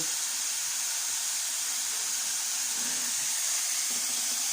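Sauce is poured over cauliflower cooking in a hot oiled pan, producing a loud, steady hiss of steam and sizzle that fills the whole moment.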